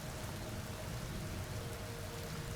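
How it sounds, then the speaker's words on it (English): Rain in the video game Empyrion hisses as a steady, faint, even wash inside a base built under a mountain, with no other sounds. "don't you love how you're inside, under a mountain, and the rain goes right through the mountain?"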